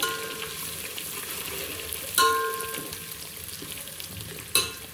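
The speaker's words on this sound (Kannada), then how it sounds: "ಇಲ್ಲಿ ಶುಂಠಿ ಬೆಳ್ಳುಳ್ಳಿ ಪೇಸ್ಟ್ ಹಾಕೋತಾ ಇದ್ದೀನಿ ಇದನ್ನು ಸ್ವಲ್ಪ ಫ್ರೈ ಆದಮೇಲೆ" Ginger garlic paste frying in a pan, a steady close sizzle with occasional louder hisses and spatters, and no talking.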